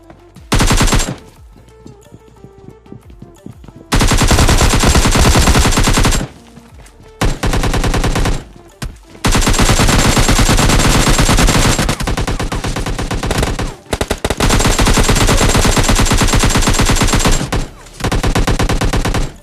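Loud, close automatic gunfire from a battle royale video game comes in long sustained bursts with brief pauses between them, dense and continuous for most of the stretch.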